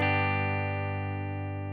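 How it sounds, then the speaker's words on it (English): A single electric guitar chord played through a Headrush Flex Prime on a Deluxe Reverb amp model rings out cleanly and sustains evenly, slowly fading for nearly two seconds with no talking. "let me turn up my volume on the guitar here, and I can play a chord."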